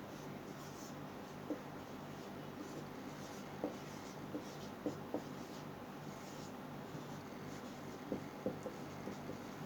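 Faint scratching and tapping of chalk or a marker on a board during a classroom science lesson, light intermittent strokes over quiet room tone.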